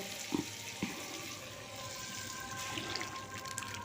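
A little Bengali masoor dal with raw mango is poured into a very hot tempering pan: two brief splashy pours near the start, then a steady close hiss and sizzle with no voices.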